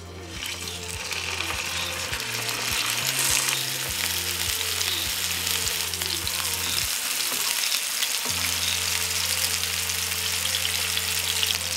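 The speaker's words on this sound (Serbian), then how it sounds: "spuštamo pljeskavice na zagrejano ulje" Meat patties fry steadily in hot oil, a loud continuous sizzle with a low mechanical hum underneath, no voices.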